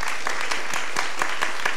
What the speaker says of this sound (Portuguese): Palmas para o grupo 2, né?